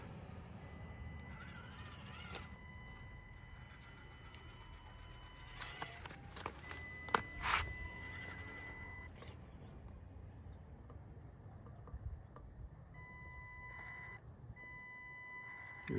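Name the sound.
Axial UTB18 Capra RC truck driving in reverse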